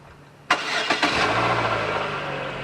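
A 2016 Chevrolet Sonic hatchback's 1.8L engine cranks briefly and catches after a flex pipe repair, then settles into a steady, quiet idle close by.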